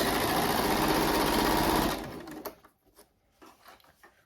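Sewing machine stitching around a fabric seam runs at a fast, steady whir for about two seconds, then stops, followed by a few soft clicks and handling noises.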